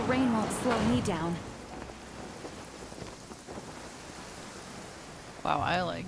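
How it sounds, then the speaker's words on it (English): Steady rain hisses in the video game Genshin Impact, a soft, even wash that fills the gap between a man's speech at the start and again at the end. "The rain won't slow me down."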